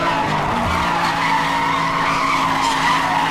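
A car in Need for Speed Hot Pursuit Remastered braking hard into a skid, its tires squealing in a steady, loud screech over a continuous engine roar, heard close and alone without any voices.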